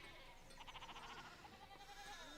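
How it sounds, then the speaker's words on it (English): Sheep in the video game Pentiment bleat faintly in a quick wavering call, set low in the mix beneath steady ambient game sound. "Okay, so there's loads of sheep."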